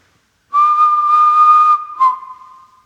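A person whistles inside a house: one long, clear, steady tone, then a short second note that slides lower and fades, loud and close against otherwise silent surroundings.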